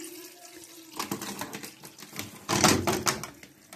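Water draining from a Potterton Promax Combi 24 HE boiler during a service in a home, a splashing, gurgling trickle with clanks and a louder burst midway, close and steady, no talking.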